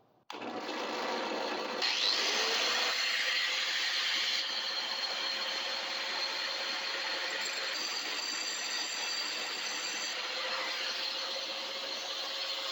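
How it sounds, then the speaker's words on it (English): A metal lathe tapers the underside of a bolt head on a trike steering damper job, giving a steady, continuous machining whine with a thin tonal edge that runs without a break after it starts. "now we got that bolt chucked up in the lathe, and we're just gonna taper the bottom of that head"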